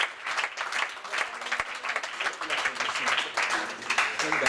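A church congregation applauds together during a service, a sustained patter of many hands clapping at an even level, with some voices mixed in.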